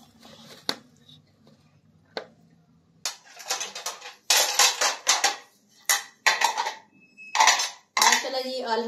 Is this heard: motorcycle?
no